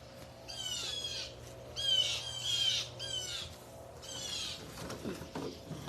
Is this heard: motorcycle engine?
no